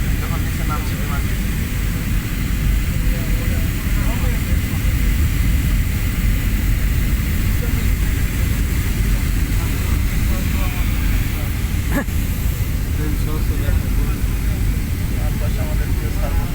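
Inside a passenger airplane cabin on descent, a loud, constant broadband engine and air roar fills the space evenly, with a faint voice speaking over it.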